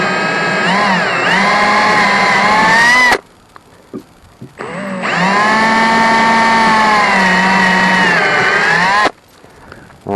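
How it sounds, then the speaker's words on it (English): A power drill whines loudly for a few seconds while drilling through a skiff to mount a Bimini top, stops briefly with small clicks, then drills again at a steady high pitch before cutting off. "that drilled good"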